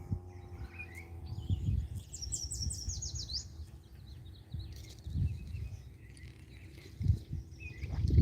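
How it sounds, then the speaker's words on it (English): Birds sing outdoors on an overcast day near a pond campground, with scattered chirps and short trilled phrases, moderately distant, over low rustling background noise. "Birds are singing."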